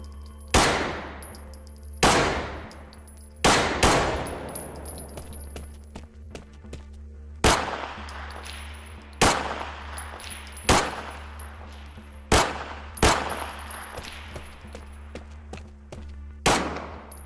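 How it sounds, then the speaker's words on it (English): Weapon sound effects from the Black Mesa game mod Operation Black Mesa / Guard Duty, about a dozen loud, sharp gunshots fired one at a time at irregular intervals, each ringing out with a reverberant tail over a steady low hum. "releasing a video demonstrating an additional sound system dedicated to improving weapons sound effects"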